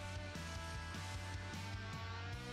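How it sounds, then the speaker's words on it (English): A small Raspberry Pi 4 case fan in quiet cooling mode whirring steadily at a low, even hum, quiet and close, with a faint repeating mechanical pulse and no voices. "this is the quiet cooling mode and this is what the fan sounds like"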